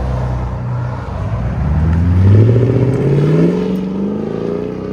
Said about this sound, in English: Toyota Tundra, Carven TR, true duals with X-Pipe. Perfect setup on this truck. And it sounds absolutely phenomenal.